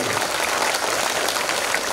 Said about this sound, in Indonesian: aplaus tepuk tangan yang meriah untuk Kogong dulu